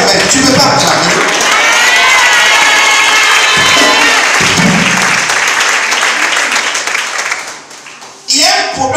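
A church congregation bursts into loud, sustained applause and cheering with shouts, dense and close, dropping off briefly near the end before another burst of clapping.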